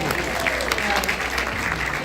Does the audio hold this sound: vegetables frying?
no